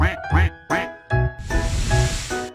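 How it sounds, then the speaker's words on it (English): A cartoon duck quacks several times in quick succession, loud and close, with a brief noisy burst between the calls and no talking over it. "Duck."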